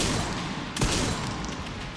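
Gunfire in a video game crackles in a dense, continuous barrage of overlapping shots, loud and close, with one heavier thump standing out near the middle.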